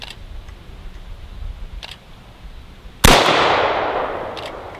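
One loud, close AKM rifle shot cracks out partway through, its blast echoing and trailing off over the next couple of seconds after a fairly quiet lead-in.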